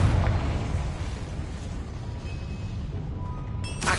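A Confringo blasting spell explodes in a Harry Potter video game: a heavy boom at the start, then a long rumbling, crackling decay fading out, with a brief sharp flash of sound at the very end.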